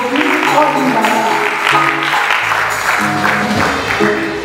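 Church congregation clapping for a family at a worship gathering, steady, close applause that keeps going throughout, with voices mixed into it.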